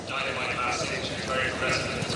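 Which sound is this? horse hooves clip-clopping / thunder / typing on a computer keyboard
horse hooves clip-clopping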